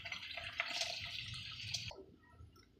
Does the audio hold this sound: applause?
no